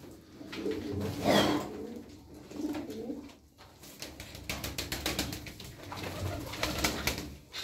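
A grizzle (mottled) pigeon coos in soft repeated low calls over a noisy, rustling background, fairly quiet and close, with no speech.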